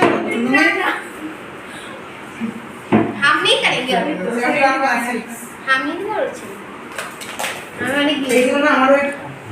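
A spoon serves food onto plates with light clinks of dishes and cutlery, close by, mixed in with ongoing conversation in a home.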